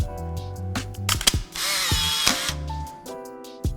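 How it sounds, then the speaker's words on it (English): A film camera's winding lever and shutter mechanism, heard close up as a quick series of mechanical clicks and ratcheting advances, with a longer grinding wind in the middle and more clicks toward the end, no talking. "What I love about my camera is the chick-chick, chick-chick and the grrrr."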